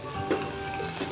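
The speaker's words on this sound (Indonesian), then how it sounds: "Kemudian kita goreng." A small viral Indonesian snack dropped into hot frying oil, a brief close sizzle with a couple of soft bubbling pops.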